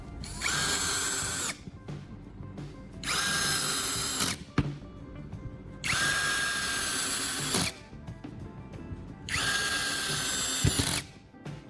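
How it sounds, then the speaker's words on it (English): A power drill drives screws into a wooden board in four long, loud whirring runs separated by short pauses, each ending as the screw seats. "I'm going to fasten them onto the surface of the wooden board with screws"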